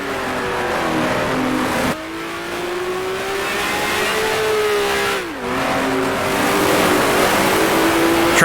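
A 1966 Formula One race car in the Grand Prix Legends game brakes hard and drops down through the gears at the Italian Grand Prix, its loud, steady engine note dipping twice with sharp shifts before climbing again, heard alone.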